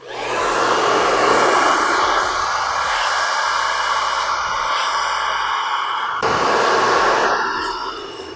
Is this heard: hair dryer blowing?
yes